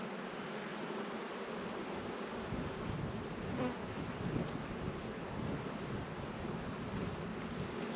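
Honeybees buzzing around an open frame lifted from a hive on a pallet, a soft, steady droning hum with scattered individual bees zipping past, fairly faint and continuous throughout.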